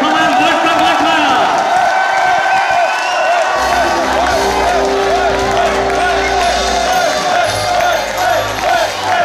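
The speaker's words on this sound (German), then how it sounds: "Wir begrüßen ihn mit einem kräftigen Applaus." Audience at a talent show applauding and cheering, a dense, loud wash of clapping and crowd noise that continues steadily throughout with a few whoops mixed in.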